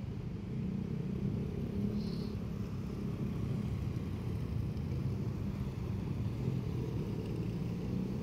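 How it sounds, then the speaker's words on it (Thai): Vehicles passing by near a railway level crossing, a continuous low rumble of traffic moving steadily close by, no talking. "ตอนนี้รถก็ผ่านไปผ่านมาเพราะว่าสัญญาณไม้กั้น"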